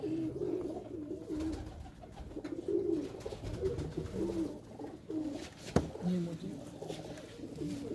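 Racing pigeons in a loft coo in repeated soft, throaty phrases close by, with quiet background noise and a sharp knock partway through.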